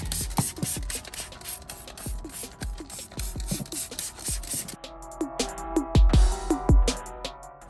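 Repeated short hissing sprays of cleaner onto car carpet, close, interspersed with clicks of a trigger and light rustling, followed by a few louder thumps.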